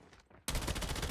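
Gunfire in a shooter game strikes the player, starting abruptly after a quiet moment as a loud, rapid, close burst of repeated shots that fills the rest of the short clip.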